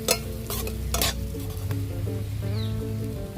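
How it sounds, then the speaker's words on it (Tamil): Ghee mutton chukka with garlic sizzles in a pan as it is stirred, with a steady frying hiss and a few scraping strokes, close and fairly loud. "அது கூட சேர்த்து நல்லா ஒரு கிளறி விட்டுருவோம்."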